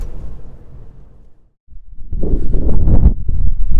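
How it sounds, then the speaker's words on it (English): Strong wind buffets the microphone in low rumbling gusts on the ice at a river mouth, dropping briefly to near silence before surging back louder and rougher. "It is very windy up here at the mouth of the river today."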